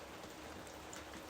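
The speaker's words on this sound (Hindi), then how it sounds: "मुझे दिख रहा है बारिश हो रही है" Rain falls outside in a steady, soft hiss of drops, faint and continuous throughout the short moment.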